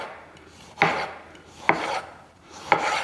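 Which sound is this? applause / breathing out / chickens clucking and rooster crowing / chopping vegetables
chopping vegetables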